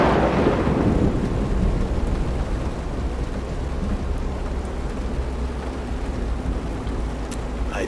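Rain and thunder in the video game Road 96. A heavy thunder rumble rolls in loud at the start, then fades into steady, dense rain hiss with a few faint drip ticks.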